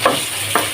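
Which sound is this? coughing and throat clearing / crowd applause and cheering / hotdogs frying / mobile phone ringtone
hotdogs frying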